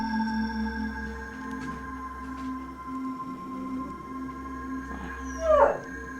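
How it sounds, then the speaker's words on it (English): A dog howls and whimpers inside a quiet building at night, one rising wavering howl late in the stretch over steady electrical hum and faint background noise. "The dog's freaking out"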